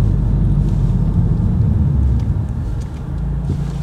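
A VW Golf 7 R engine idles steadily while the car sits stopped, a close, continuous low rumble that sags slightly toward the end, with no voices over it.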